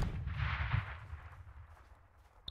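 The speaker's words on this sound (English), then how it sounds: "Explosion to the east, squad." A distant explosion in the military shooter Project Reality on the Yamalia map rumbles low and fades out, followed by a small sharp crack near the end.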